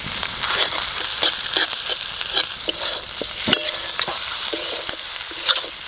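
Ginger garlic paste fries in a pan with a steady bright sizzle, while a spoon scrapes and stirs in irregular taps throughout, loud and close with no voices.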